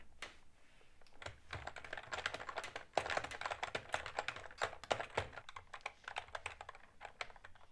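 Computer keyboard keys tapped in quick, irregular bursts during a ZX Spectrum game, close and clear with no talking over them.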